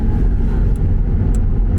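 A Lamborghini SVJ being driven and moved, a steady low engine rumble close by with a few faint high clicks on top and no talk.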